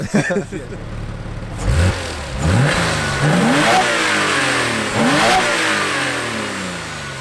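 A modified Porsche Boxster S engine revs repeatedly, pitch sweeping up and down through several gear changes, with a throaty intake roar and a voice talking briefly underneath.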